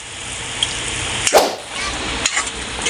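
Squid adobo simmering in a pan, a steady bubbling sizzle with a few soft clinks and stirring knocks, heard alone and close.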